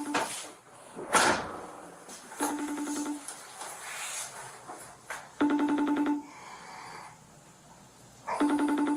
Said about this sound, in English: So I'm gonna dial his number up.